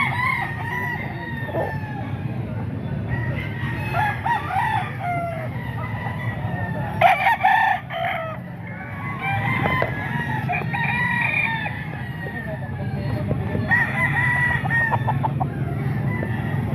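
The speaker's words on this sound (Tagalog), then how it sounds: "Ayan o, napakaraming manok." A crowd of chickens and roosters at a market, clucking and crowing over and over near and far, with one loud close crow standing out midway against a busy background.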